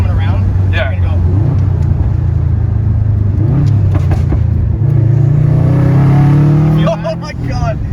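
A car engine revs sharply in quick blips during heel-toe downshifts from fourth gear, rising and falling loudly up close, with people talking over the engine noise.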